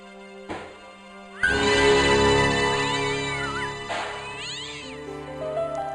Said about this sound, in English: Alright, cat in the trash can.